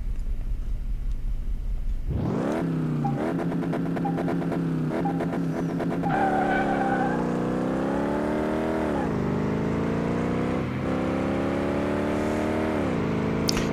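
A car driving around a track in the video game Car Mechanic Simulator 2018, with a loud, steady engine that starts up, revs and holds a droning pitch that rises and falls as it accelerates, with no voices.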